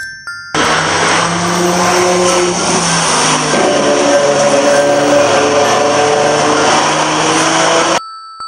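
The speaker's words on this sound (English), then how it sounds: "This is a car." A car drives past steadily for about seven and a half seconds, its engine hum and tyre noise broadband and fairly loud, ending in abrupt silence.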